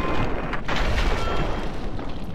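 Gunfire at roamers in the video game Fallout 3, inside a museum station: a dense, steady wash of booming shots and rumble that stays loud and close for the whole stretch, with no voices over it.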